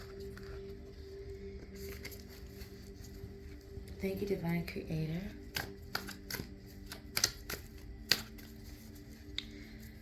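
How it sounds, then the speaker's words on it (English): Brief riffling and sharp clicks of tarot cards being shuffled, close up, with a person speaking quietly over a soft hum. "I'm going to shuffle these one more time."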